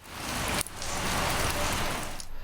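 Heavy, torrential rain pours down in a dense, continuous hiss with no voices, broken only by a brief dip partway through.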